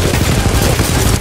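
Sustained automatic turret fire in the video game Titanfall, a steady, loud stream of rapid shots rolling on for over a second without a break.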